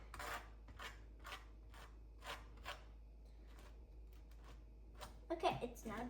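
Avocado being spread and scraped on toast by a child, heard as a series of close, regular raspy knife strokes followed by a louder scrape near the end, with a steady low hum underneath and a voice talking.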